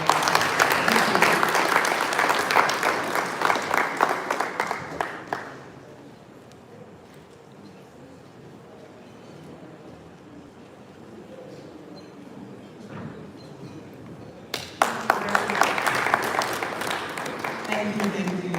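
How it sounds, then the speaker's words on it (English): Audience applause at a banking summit awards ceremony, a loud burst of clapping that fades into quiet after about five seconds, then swells again near the end. "Please give him another round of applause."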